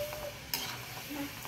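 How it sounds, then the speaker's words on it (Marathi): Gulab jamun dough balls made from bread deep-frying in oil over low heat, a continuous soft bubbling sizzle with a brief clink partway through. "अशा प्रकारे आपण सगळे फ्राय करून घेऊयात"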